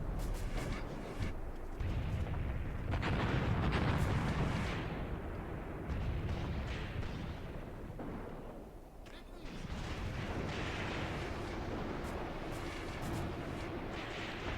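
Gunfire and artillery rumble steadily in a Graviteam Tactics battle, a continuous mix of shots and heavy booms at varying distances, with someone talking over it.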